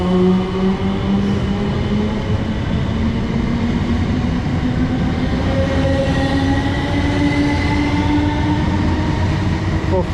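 A train rumbles steadily, its wheels squealing and brakes whining in rising tones as it pulls into a station on the Clapham to Windsor line, loud and close throughout.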